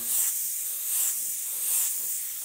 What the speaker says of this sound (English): Just spraying